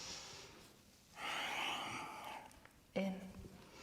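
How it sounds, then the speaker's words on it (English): Quick breaths pushed in and out through the nose during a yoga class, a faint short exhale followed by a longer forceful rush of air and a sharp sniff, close and quiet. "Again, breathe through your nose."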